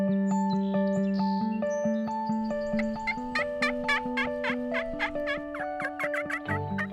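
A turkey gobble, as from a hunting game call, comes as loud bursts of rapid, rattling notes over steady sustained tones that step gradually upward, with no talking.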